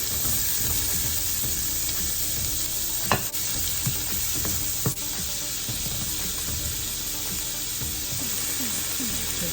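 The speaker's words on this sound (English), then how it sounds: "Right now we're going to be melting some butter." Butter melts in a pan as the base for a creamy salmon pasta sauce, giving a steady close sizzle and crackle with a few sharp clicks and no talking.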